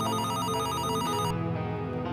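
A telephone rings steadily in an indoor scene, a bright repeating electronic ring that fills the short moment without any talking over it.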